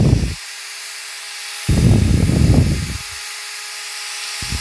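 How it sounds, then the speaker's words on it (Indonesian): An electric drill runs in normal drilling use, a steady high whine throughout with bursts of louder grinding and rattling as the bit engages, close and prominent. "Digunakan ngebor normal. Ini ngebor normal."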